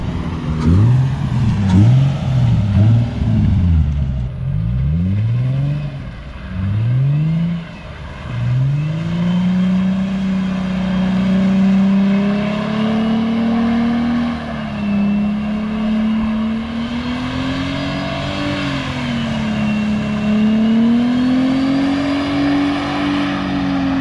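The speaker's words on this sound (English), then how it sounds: "now they're teaching them how to do controlled donuts" At a drift school, a car spins controlled donuts, its engine droning loud and steady with wavering pitch as the driver holds the slide, after a few sharp revs at the start, with no talking.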